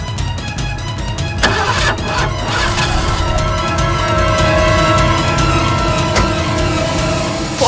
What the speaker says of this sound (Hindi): लेकिन मेरी गाड़ी स्टार्ट नहीं हो रही थी।